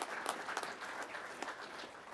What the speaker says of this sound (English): So if you could just give all of them a round of applause for what they do to make this happen.